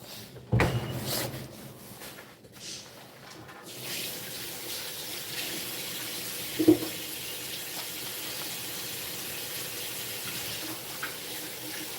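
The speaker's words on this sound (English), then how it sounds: "Live vitamin water concentrate." Water running steadily from a tap while a vitamin C water concentrate is prepared, a constant moderate flow with a few clunks and knocks of containers near the start and a single clink midway.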